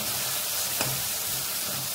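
Steady loud sizzling from a hot pan of spinach puree with a scraping stir midway, continuous and close, no one speaking.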